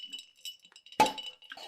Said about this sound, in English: are you ready to hear this pop?